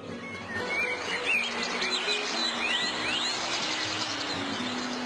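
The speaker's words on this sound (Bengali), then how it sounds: "পাখিদের কলতান ঝর্নার ঝিরিঝিরি শব্দ" Birds chirp and whistle in short, rising calls beside a stream in the hills of Companiganj, Sylhet, over a steady soft wash of running water, with no voices.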